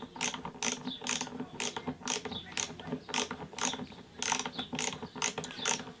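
Ratcheting screwdriver driving screws down tight, giving rapid, evenly spaced clicking bursts of the pawl in a steady rhythm, close and fairly loud with no talk over it.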